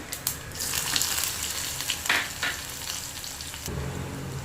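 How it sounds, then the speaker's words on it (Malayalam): Mustard seeds, cumin and shallots sizzle and crackle steadily in hot oil, a close, continuous frying hiss with scattered pops and a stir of the pan near the end. "കടുക് ഇട്ട് കൊടുക്കാം. കുറച്ച് ജീരകം, ചെറിയ ഉള്ളി,"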